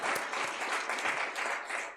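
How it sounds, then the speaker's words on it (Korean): A church congregation claps together in celebration, producing a short burst of steady, fairly soft applause heard from within the room. "한번 박수 한번 쳐드릴까요?"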